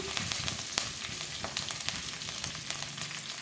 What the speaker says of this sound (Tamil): கடுகு போட்டுக்கலாம் ரெண்டு வெந்தயம் போட்டுக்கலாம் கருவேப்பிலை போட்டுக்கலாம்